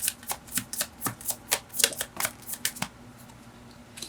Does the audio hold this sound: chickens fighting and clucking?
no